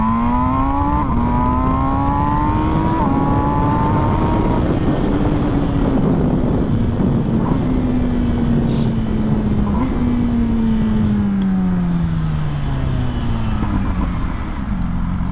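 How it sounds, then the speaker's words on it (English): An MV Agusta sport motorcycle engine, a light, torquey 208-horsepower bike, accelerates hard nearby, its pitch climbing through several gears with brief drops at each shift, loud and continuous throughout. "All right, this bike is fast. Woo, this thing is like really torquey"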